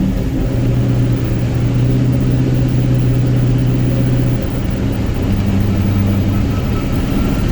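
A 6.0L Powerstroke diesel pickup engine drones steadily under load climbing a hill, its low pitch holding then dipping briefly before settling again, loud and continuous with no voices.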